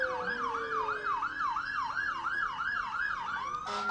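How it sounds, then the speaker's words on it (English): A wailing emergency siren at a Christmas parade sweeps up and down in steady, rapid cycles, loud and close, ending in a brief burst of noise. "Always start off with a siren"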